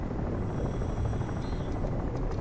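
Helicopter in the Crysis video game during a speedboat chase on a river, a continuous broad rotor and engine roar that holds steady and fairly loud throughout, with no talk.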